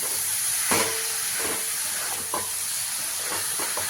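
Banana flower goes into sizzling masala in a pan, a steady hiss of frying with a few soft scraping stirs at intervals, close and alone without voices.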